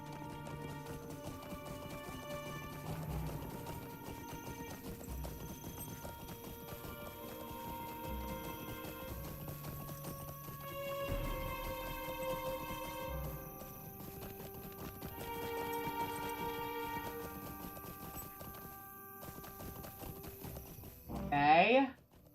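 Horse hooves clip-clopping in the online game The Lord of the Rings Online, a steady rhythmic trot alongside game music, ending in a brief loud whinny.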